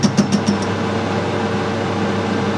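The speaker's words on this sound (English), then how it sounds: "Die grinder." A die grinder runs near a drill spindle being welded up and machined: a few light taps at the start, then a steady, even whine and hum that holds without a break.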